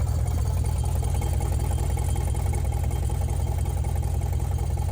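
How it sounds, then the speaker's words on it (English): A Chevrolet C8 Corvette engine idles with a steady, rapid mechanical ticking and whirring from the driver's side of the engine bay, recorded close, continuous and alone without talking. "I noticed a sound coming from the left side of the engine bay, the driver's side"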